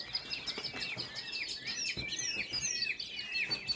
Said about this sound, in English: Jungle fowl. Just like jungle fowl, gray jungle fowl.